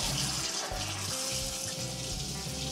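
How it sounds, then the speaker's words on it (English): Hot water running from a tap while a cast iron pot is scrubbed with a brush, a steady close rushing splash with no voices. "clean the pot with a brush or scrubber and hot water"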